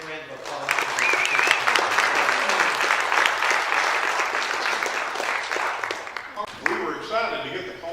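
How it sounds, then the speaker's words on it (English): A crowd at a magic convention in Nashville applauds steadily for several seconds, dense and sustained clapping that tapers slightly toward the end. "Let's give these gentlemen a big round of applause."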